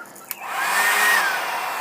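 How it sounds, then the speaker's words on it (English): Hair dryer blowing steadily at close range to heat and dry acrylic craft paint sprayed on a model car body, a steady broadband whoosh that swells after a brief click and holds on, with no talking. "So I'm going to go ahead and use my blow dryer here."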